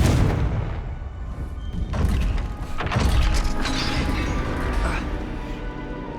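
A Confringo blasting spell explodes in Hogwarts Legacy, sending out heavy booming crashes with a rumbling low end. The bursts arrive in a couple of surges and are followed by a ringing, echoing tail.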